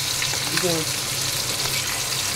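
Fish frying in a pan, a dense continuous sizzle with a faint brief voice-like tone partway through, close and steady.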